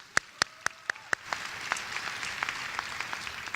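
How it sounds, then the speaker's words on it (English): At a high school world languages honor society induction, a few sharp isolated claps ring out, then an audience breaks into moderate, scattered applause for the language teachers. "Give them a round of applause."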